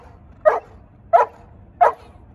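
A dog being trained as a squirrel dog barks three times, evenly spaced, loud and close, with quiet gaps between each sharp bark.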